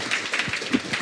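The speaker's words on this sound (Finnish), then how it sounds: "Antakaa suuret aplodit meidän" Audience applause for the panelists at a Finnish public launch event, with a scattered crowd clapping steadily throughout the short burst and no talk over it.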